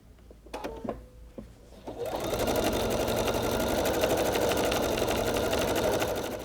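Pfaff Creative Performance sewing machine stitching out a decorative stitch. After a few light clicks it starts a steady, close, rapid mechanical hum that runs unbroken to the end.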